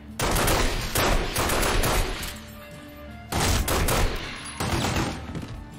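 Rapid bursts of automatic gunfire in The Godfather video game on Xbox 360, two loud sustained volleys with a brief lull between, close and harsh.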